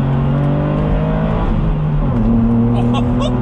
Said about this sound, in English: Just listen to this car though, bloody hell.